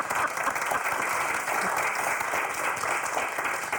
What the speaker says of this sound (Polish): Gdzie brawa?